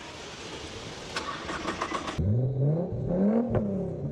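A sports car engine with a custom exhaust cranks and roars to life with a deep, throaty note, then revs up and settles into a loud rumbling idle, close by.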